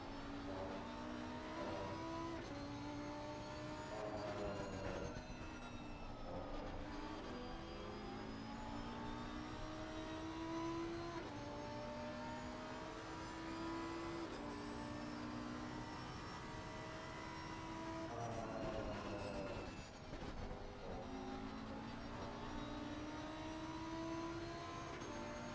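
A Lamborghini Huracan GT3 lapping Donington Park in a racing video game, its engine note rising and falling through repeated gear changes, loud and continuous with no talk.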